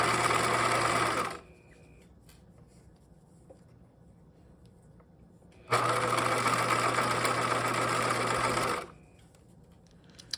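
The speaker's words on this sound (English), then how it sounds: "While edge stitching, I like to keep my fabric lined up in this little divot right there in the foot" A sewing machine edge stitching fabric for a backpack drawstring runs in two loud, steady bursts, the first about a second long and the second about three seconds, with quiet handling between them.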